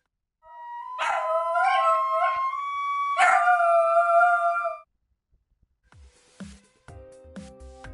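A dog gives two long, loud, wavering howls with bark-like onsets, close by and without talk; brief knocking taps follow after a pause.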